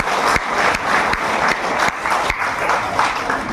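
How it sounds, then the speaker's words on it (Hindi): Loud applause from a seminar audience at an achievers' celebration, a dense, close burst of clapping with sharp peaks and a few louder individual claps standing out. "मैं चाहूंगा एक बार जो मेरी प्यारी सी टीम है उनके लिए जोरदार तालियां प्लीज।"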